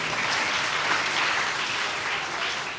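Enthusiastic audience clapping at a children's assembly in Lahore as a guest arrives, a dense, loud, steady wash of applause lasting throughout with no voices.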